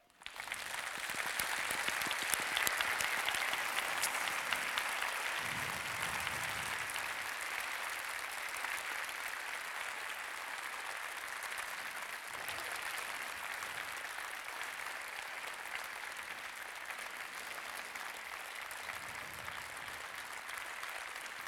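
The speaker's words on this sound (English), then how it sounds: "I let them applaud you." Sustained applause from a large audience, steady and loud for the full stretch with no talking over it.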